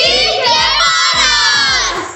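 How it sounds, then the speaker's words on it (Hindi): A group of children shout together in unison during the Chherchhera festival in Chhattisgarh. It is a loud, continuous burst of young voices lasting about two seconds. "एक बार सब जन चिल्ला सीजी के पारस ऐसे बोलो,"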